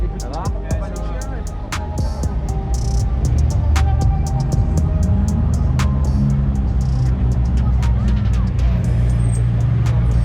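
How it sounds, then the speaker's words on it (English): A supercar engine rumbles and swells as it passes close by on a Monaco street, with a steady low drone and scattered clicks throughout. "There's a car who passed behind behind the camera."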